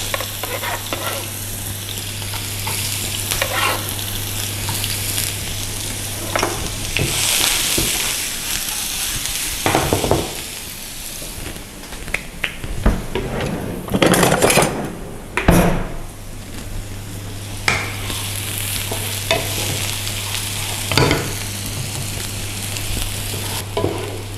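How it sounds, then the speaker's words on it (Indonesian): Onions sautéed in a pan with a little oil while making burgers: continuous close sizzling and frying, punctuated by scraping stirs and occasional knocks of the utensil against the pan. "ini bawang-bawangnya nih kita tumis dulu. Gue pakai pan, kasih minyak dikit ya"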